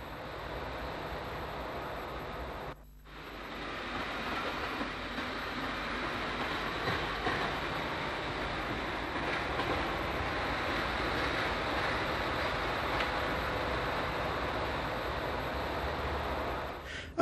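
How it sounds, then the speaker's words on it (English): A multiple-purpose diesel railcar runs on the Larne line, a steady rumbling roll with wind buffeting, a brief dropout early on, then continuous train noise with no talk. "On the Larne line, multiple purpose diesels are operating most of the services."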